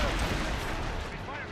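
Ship cannons boom in Assassin's Creed Rogue, dense rolling gunfire and blasts filling the whole moment, with voices shouting over the barrage.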